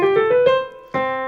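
A synthesized keyboard tone in GarageBand holds a middle C, struck several times in quick succession and then struck again after a short gap, clear and close with no talking.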